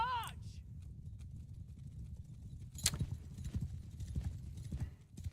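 Hooves of a mass of horse archers in the Mount & Blade II: Bannerlord video game thud as a dense, continuous clip-clop rumble, with a few louder impacts standing out and no talking in the clip.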